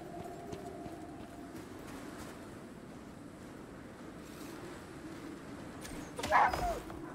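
A dog in the survival video game Icarus lets out a short cluster of barks near the end, rising above a faint, steady wind-like ambience.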